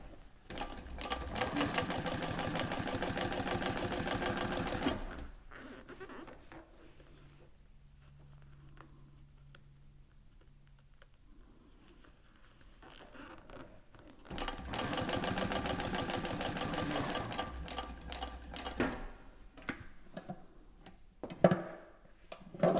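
Thor GE 0617C compound walking foot sewing machine stitching in two bursts of rapid, even mechanical chatter, with a quieter pause between where faint handling noises and a low hum are heard, and a voice speaking briefly near the end.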